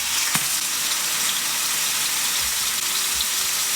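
A steak sears in a hot pan, a loud, steady sizzling hiss that fills the whole stretch, with a sharp clatter near the start and a few low bumps later, no voices.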